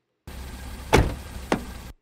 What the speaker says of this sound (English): it's just a car door shut